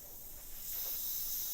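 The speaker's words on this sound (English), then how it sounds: "you just want to make sure you spray all the water out" An airbrush blows out leftover cleaning water in a steady, close hiss that rises and holds loud through the second half.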